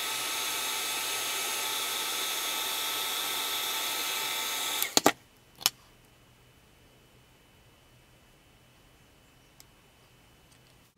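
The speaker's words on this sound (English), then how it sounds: "just use your heat tool, melt some of it off." A handheld heat tool blows steadily to melt excess wax off a melt-art piece, a loud continuous airy whoosh that cuts off abruptly, followed by a few sharp clicks and near-silence.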